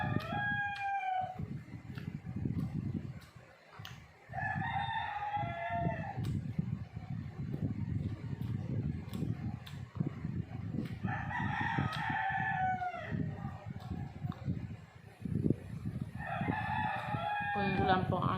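Several roosters crow in repeated bursts over a steady low hum of background noise, with the calls carrying clearly at moderate distance.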